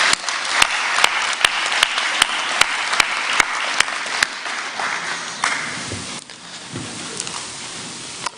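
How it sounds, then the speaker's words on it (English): A commencement crowd gives parents a sustained round of applause, with dense clapping throughout and a few sharp close claps on top, tapering off near the end. "Students, let's give a round of applause to all of our parents."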